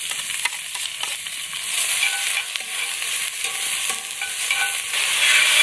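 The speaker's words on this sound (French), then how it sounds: "On rajoute un peu d'huile. On met les oignons." Onions frying in oil in a pan, a bright continuous sizzle that grows louder, with occasional clicks and scrapes of stirring, no talk.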